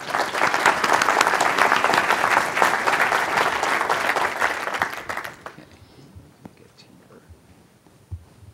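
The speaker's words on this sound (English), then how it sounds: "Let's give him a warm round of applause." Conference audience applause for a speaker at the 2012 NJ/DV HIMSS Fall Conference, a loud sustained clapping from many hands for about five seconds before it dies away into quiet room noise with a few stray sounds.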